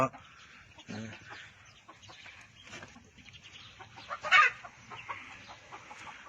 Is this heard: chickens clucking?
yes